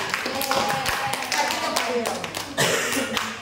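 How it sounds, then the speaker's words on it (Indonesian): A room of people at a lab session in Indonesia applauds for a presenter, a steady patter of claps close by, with talk and voices mixed in throughout. "tepuk tangan untuk Mario biar Indonesia"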